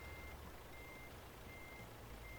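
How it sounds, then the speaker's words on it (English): A diesel truck engine in Euro Truck Simulator 2 rumbles low and steady underneath, while an intermittent high reversing beep repeats in evenly spaced pulses throughout. "It's a really rumbly truck. Can you hear that? It's a proper sort of diesely sound to this truck."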